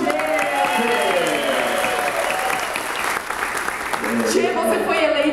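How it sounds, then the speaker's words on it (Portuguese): A studio audience bursts into sustained applause, dense and even throughout, with some cheering and voices riding over the clapping. "Uma salva de palmas pro Tchê."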